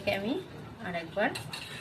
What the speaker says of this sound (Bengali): এটাকে আমি আরেকবার